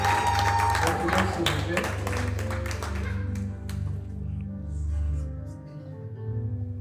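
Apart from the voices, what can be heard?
church congregation applauding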